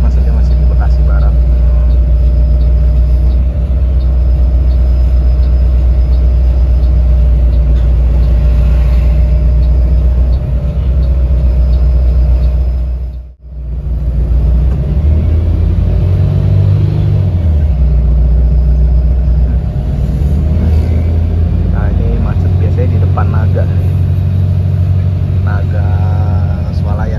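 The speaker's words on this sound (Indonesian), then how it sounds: "Ini jam pulang kantor juga ya, macet wajar sih lewat sini." Congested street traffic in Bekasi Barat at evening rush hour, cars and buses idling and creeping forward with a steady low engine rumble throughout, a brief dropout midway, under continuous talk.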